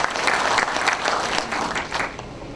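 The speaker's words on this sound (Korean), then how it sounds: "박수 부탁드리겠습니다." Crowd at a political book-concert event in Jeonju gives a short burst of loud, dense applause, close and steady with no talk over it.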